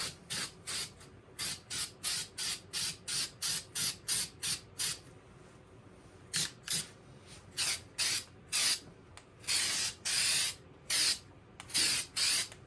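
Short, sharp hisses from a spray can as a model track is painted to look like blacktop asphalt and concrete. The bursts come one after another in quick succession, near and loud, with brief gaps and a few longer sprays toward the end.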